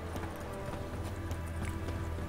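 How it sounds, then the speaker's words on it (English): Hooves of the horse Roach in The Witcher 3 video game, a regular clip-clop of trotting steps over a low steady background, moderately quiet, with no talking. "Let's call in our horse, Roach."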